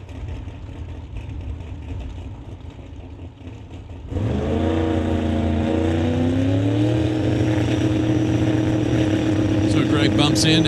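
Drag race cars, a twin-turbo Opel GT and a 2002 Cavalier with big block Chevy engines, idle roughly and then launch together into a loud, sustained high-revving roar down the track at an NHRA Summit ET Series event.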